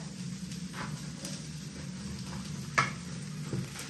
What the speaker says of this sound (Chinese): 我妈开始贴大饼了